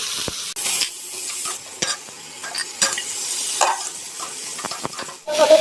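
Vegetables and panch phoron hit hot oil in a pan, giving a loud continuous sizzle and crackle with occasional utensil clinks and stirring scrapes.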